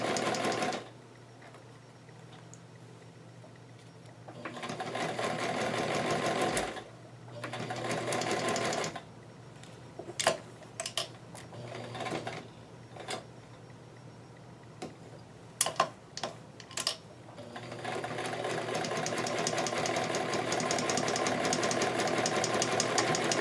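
A sewing machine stitches a doll dress in a series of close, rapid runs, some long and steady, others short bursts with pauses and clicks, ending in a sustained run.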